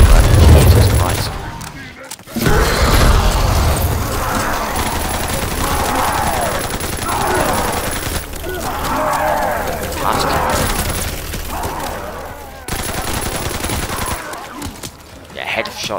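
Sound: M267 SMG gunfire in a WWII video game

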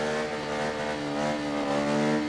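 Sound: supermoto motorcycle engine revving during wheelie practice

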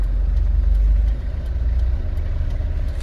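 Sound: car engine accelerating during a driving lesson

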